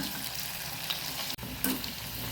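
Jackfruit seed sukurunde balls frying in hot oil, a steady close sizzle and crackle throughout, with a brief stirring clatter near the end.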